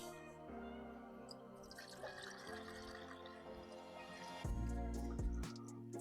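Water trickles and splashes as it is poured into the spare coolant tank of a Mini One, a fairly close, uneven pour that swells louder near the end, with no talking.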